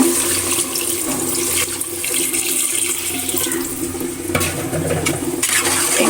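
Water splashes and trickles into a fish curry pan steadily for several seconds, a close, continuous wet pouring sound with faint stirring clinks.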